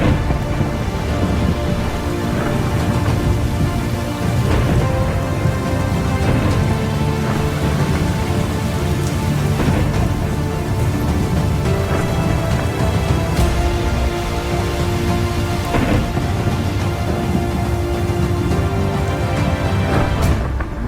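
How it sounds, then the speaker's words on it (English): Steady rain pours down with repeated thunder rumbles rolling through, a dense, continuous storm wash heard alone with no voices. "It was about to rain."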